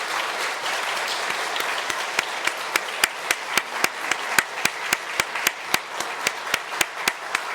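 A church congregation applauding during a Sunday service, a warm wash of clapping that gradually settles into a slow, rhythmic unison beat of hands, heard from within the room.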